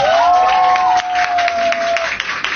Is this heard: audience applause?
yes